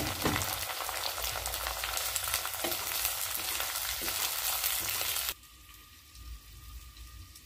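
Onions and tomatoes sizzle loudly in a pan for a spinach curry, a dense frying hiss for several seconds that then drops sharply to a quiet, muffled simmer.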